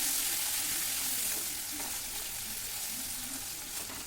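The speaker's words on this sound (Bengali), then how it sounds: "দিয়ে মশলাটাকে ভালো করে কষিয়ে নিতে হবে" Spice masala with tomato, sugar and red chilli powder frying in a pan for dalia khichuri, a steady broadband sizzle that stays loud throughout and eases slightly toward the end.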